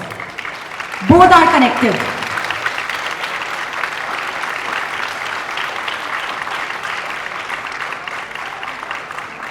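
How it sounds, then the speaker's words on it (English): Audience applause at a recognition ceremony, a continuous crowd clapping that follows a short spoken phrase and a sharp burst near the start. "Recognition needs applause."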